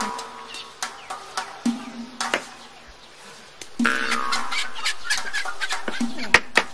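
Chickens clucking in a household setting where a hen is about to be slaughtered, short repeated clucks and squawks in a steady series, fairly close, with background noise and some voices.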